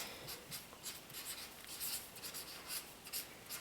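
A pen writing on a paper sewing pattern, close and quiet scratchy strokes in short bursts with brief pauses.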